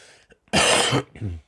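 A single harsh cough bursts out close by, followed by a brief throaty rasp, like a throat being cleared.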